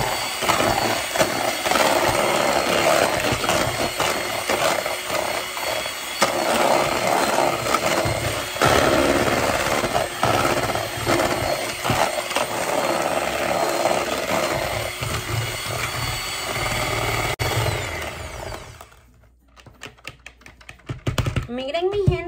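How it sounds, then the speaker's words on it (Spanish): An electric mixer beats egg yolks with sugar for tiramisu, a loud steady whirring buzz that runs for most of the time and then cuts out, followed by brief clatter. "Y vamos a batir bien"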